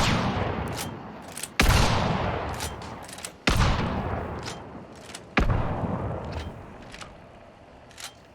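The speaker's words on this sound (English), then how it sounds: "So this is hip fire." Hip-fired shotgun blasts in a video game, three loud, sharp booms spaced a couple of seconds apart, each trailing into a decaying echo, with faint clicks in between.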